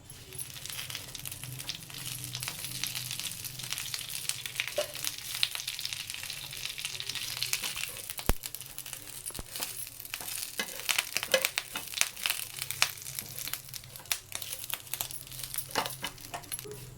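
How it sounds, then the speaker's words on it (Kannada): Curry leaves frying in oil for chutney powder, a continuous close sizzle and crackle with scattered sharp pops and stirring scrapes throughout. "ಈ ಕರಿಬೇವು ಎಣ್ಣೆ ಹಾಕಿ ಚೆನ್ನಾಗಿ ಹುರ್ಕೋತಾ ಇದ್ದೀನಿ."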